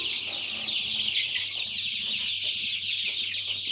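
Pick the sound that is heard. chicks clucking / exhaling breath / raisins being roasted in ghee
chicks clucking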